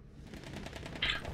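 An Automatico automatic weapon fires in Battlefield 1, a rapid, even stream of quiet, distant-sounding shots over low game ambience, with a brief brighter burst near the end.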